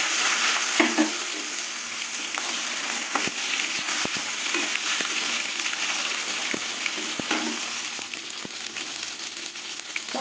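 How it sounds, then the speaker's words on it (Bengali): Pointed gourd (potol) slices frying in hot oil until reddish, giving a steady hissing sizzle with frequent small crackles and a few sharper pops, fairly close and without speech. "পটলগুলো লাল লাল করে ভেজে নেবো"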